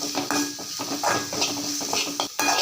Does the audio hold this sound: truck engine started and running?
no